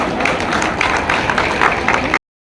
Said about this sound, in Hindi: जोरदार तालियों से आप जो है स्वागत करें